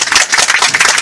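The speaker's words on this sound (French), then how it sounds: "On peut l'applaudir." An audience on a seminar trip in Jerusalem claps for their guide, a dense, steady patter of many hands close by with no voices.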